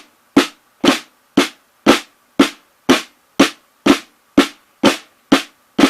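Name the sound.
flam tap rudiment played on drum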